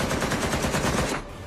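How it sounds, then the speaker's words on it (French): Dense burst of automatic gunfire with rapid overlapping shots erupting inside a recording studio during an attack, loud and continuous before cutting off abruptly into quiet. "Plein de coups de feu."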